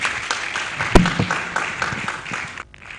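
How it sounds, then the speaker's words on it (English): Audience clapping for a speaker at a school event, a crowd's scattered applause at moderate volume with one sharp loud clap, tapering off at the end. "Please, a round of applause again."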